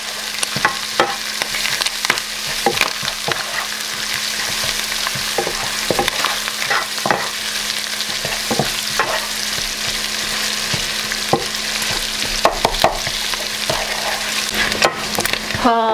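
Onions sizzle steadily in a pan for a savory khanom tian filling, with a dense broadband hiss and irregular stirring scrapes and clinks throughout, close and loud, with no one talking.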